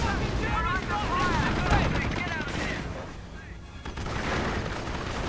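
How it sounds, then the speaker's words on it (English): Staghound armoured car and Stuart tank guns firing in a World War II strategy video game, dense rapid bursts of gunfire and booms with ricochet-like whines, loud and continuous with a few brief lulls. "Staghound and Stuart opening up."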